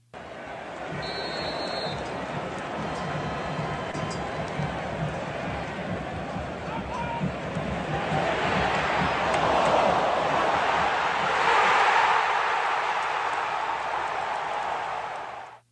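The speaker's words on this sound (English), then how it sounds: "Take a listen to the Seattle crowd after Alex Freeman making his World Cup debut, putting the ball in between the pipes" Big Seattle stadium crowd roaring through a World Cup goal, a dense, continuous wall of cheering that swells louder midway and stays loud before cutting off.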